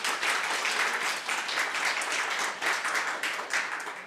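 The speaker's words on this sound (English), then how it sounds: "I think she deserves a round of applause for holding it all together today." Conference audience on homelessness breaks into sustained applause, dense clapping from many hands holding steady for about four seconds, close and fairly loud with no voices over it.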